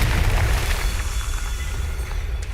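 The Confringo explosion spell in the Hogwarts Legacy video game lets off a loud, sustained booming rumble that stays heavy through the whole moment, then fades slightly near the end, with no voices.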